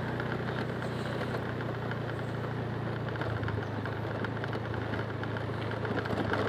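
Motorcycle engines rumble steadily along a narrow lane through a village, a continuous loud mid-pitched drone with no break or pause.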